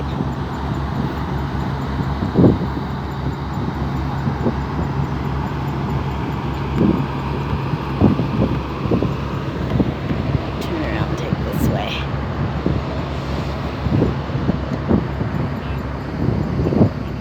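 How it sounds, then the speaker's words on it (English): Wind blows across the upper deck of a Nile river cruise ship, a steady rushing buffet on the microphone with a low engine drone underneath, while people talk intermittently nearby. "It's cold though. It's a little windy."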